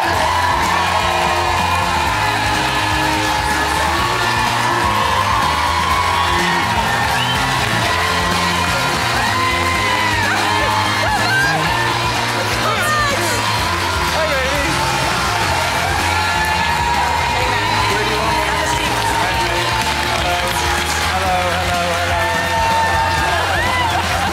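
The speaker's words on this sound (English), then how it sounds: "We've never had an applause like this, Robbie." A large studio audience cheers, whoops and yells for Robbie Williams, a loud and sustained roar of crowd noise with shouts rising above it and voices mixed in.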